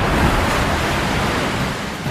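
Rough open sea around the Yangshan Islands, exposed to summer typhoons and strong currents, with waves and surf making a loud, steady, unbroken roar of breaking water.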